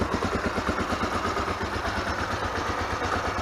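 A Honda NX250 motorcycle engine runs steadily nearby, a rapid, even rumbling pulse that holds at a constant idle-like pace throughout with no talking.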